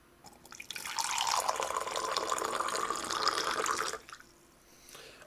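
Hot water pours steadily into a container for an experiment, a rushing, splashing stream lasting about three seconds, close and fairly loud, then stopping abruptly with faint room noise after.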